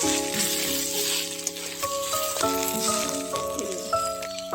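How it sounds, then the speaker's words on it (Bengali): Taro (kochu) frying in a pan gives a steady broadband sizzle, with a sustained musical tone running through it and occasional faint clinks. "কচুরি লাল লাল করে ভাজি হয়েছে"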